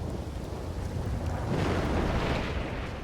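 Storm wind in the video game Red Dead (RedM) roars in a steady, loud, gusty rush with no talking, swelling slightly midway and holding strong throughout.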